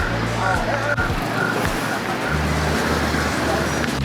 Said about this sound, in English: you can't really walk on the street because there's cars coming through and scooters